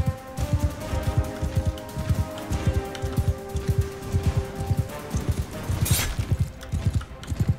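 A fast horse gallops in Mount & Blade II Bannerlord, its hooves drumming in a steady rapid rhythm under a continuous hum of battle noise, with a brief louder burst partway through and no talking.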